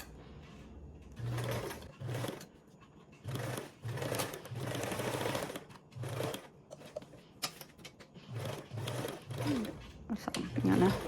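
Sewing machine chain-stitching pieces at a 3/8 seam allowance, repeated short bursts of rapid close stitching with brief pauses between them, under intermittent talking.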